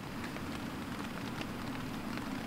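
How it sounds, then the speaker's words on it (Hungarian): Light rain drizzles during a Fjällräven Classic trek in Sweden, an even, faint hiss of drops pattering on a surface with no voices. "már csak csepereg az eső."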